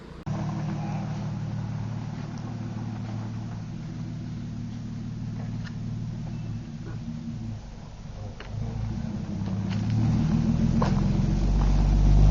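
A DeSoto car engine idling with a low, steady rumble, then revving so the drone grows louder and deeper toward the end, heard from inside or close by.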